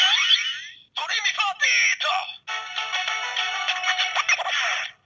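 A DX DoReMiFa Beat Gashat toy from Kamen Rider Ex-Aid plays its electronic game-start sound, a bright, loud, close synthesized jingle with sweeping tones, a brief gap, then a busy tuneful electronic phrase with a voice-like announcement.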